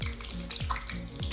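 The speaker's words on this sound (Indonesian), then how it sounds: "Saya akan menambahkan sedikit minyak" Cooking oil pours into a frying pan while making Balinese spiced eggs. It gives a steady liquid hiss with a gurgling rhythm that repeats about every third of a second, close and continuous.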